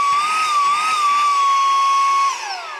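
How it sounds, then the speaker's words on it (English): A Saker 3in1 vacuum cleaner runs on its high speed setting, giving a loud, steady motor whine that holds level, then drops in pitch and volume near the end as it winds down. "it's going to go to high speed, which will give you more vacuum."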